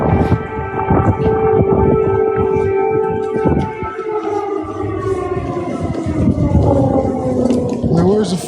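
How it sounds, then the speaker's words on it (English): A wailing air raid siren rises and falls in long tones in the streets of Kyiv, loud and slightly distant, while voices talk over it and footsteps and bustle sound nearby. "an air siren goes off in the capital"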